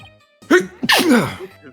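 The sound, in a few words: sneeze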